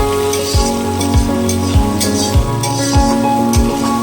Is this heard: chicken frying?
yes